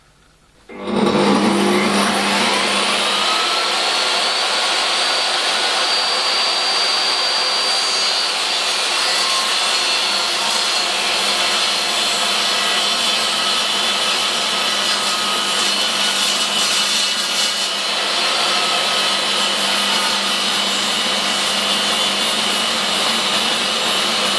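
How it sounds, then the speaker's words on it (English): A table saw rips a block of maple wood with a sustained, loud whining buzz that begins suddenly and runs steadily for over twenty seconds without pause or speech. "I should be cutting these out of this block of maple, cutting them on the table saw."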